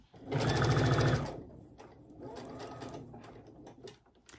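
A sewing machine stitches a Tilda fabric quilt in a fast, loud whirring burst, then a quieter, slower run of stitching with light mechanical clicks as the presser foot is worked over a seam.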